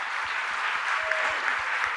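A seated audience at a religious discourse gives steady, moderately loud applause, a dense wash of many hands clapping together without letup.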